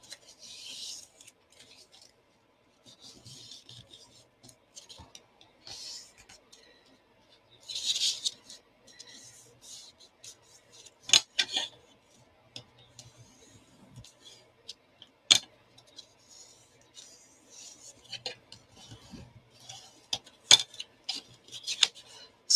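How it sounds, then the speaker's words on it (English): Leather being burnished to form a small gusset on a briefcase flap, heard as soft, intermittent rubbing and rasping strokes with occasional sharp ticks, close up and fairly quiet, with no talking. "I'm going to burnish so that I get that little gusset there on my flap"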